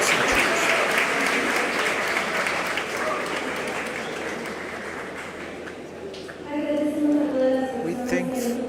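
A university colloquium audience breaks into sustained applause and cheering, a dense wash of clapping that carries on for several seconds before a voice begins talking over the fading claps.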